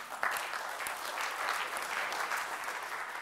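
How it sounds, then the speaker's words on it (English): Audience applause at a talk, a crisp, even burst of clapping from a seated crowd, steady throughout with no speech over it. "So give yourself a round of applause right now."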